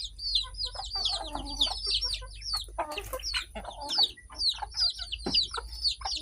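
Chickens cluck and chirp around a rural village farmyard, a busy run of close, overlapping clucks and peeps, with a faint low background hum and no talking.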